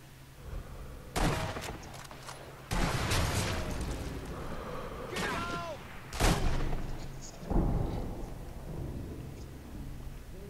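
Sniper Elite V2 gunfire: four or five sharp, loud shots spaced a second or two apart, each with a rolling echoing tail, over a steady low background rumble.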